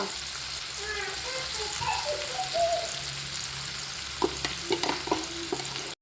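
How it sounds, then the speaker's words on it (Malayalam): Masala-coated fish fries in hot oil with a steady hiss, while a faint voice murmurs in the background and a few sharper crackles and spatters come toward the end. "ആദ്യം ചെറിയ രീതിയിലാണ് രണ്ട് സൈഡും ഞാൻ ഫ്രൈ ചെയ്തെടുക്കുന്നത്."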